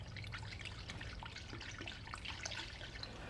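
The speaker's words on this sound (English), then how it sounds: "we just want to swish this around and give it a good mix" Liquid soil fix solution swished around inside a container to mix, a soft, continuous sloshing and dripping close by at low volume.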